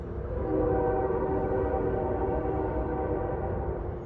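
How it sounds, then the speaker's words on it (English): Freight train I-144 rolls inbound toward Cordele, Georgia, on tracks beside a hotel, a steady close rumble of wagons with sustained tonal horn-like harmonics holding level throughout, no voices. "what we're hearing is I-144 heading towards Cordele, inbound, for about 5 minutes"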